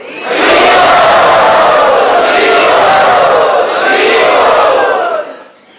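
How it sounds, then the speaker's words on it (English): A large crowd at a spiritual gathering chants "Haribo" together loudly in unison, a sustained roar of voices lasting several seconds before fading out. "Let us very enthusiastically welcome them by chanting Haribo."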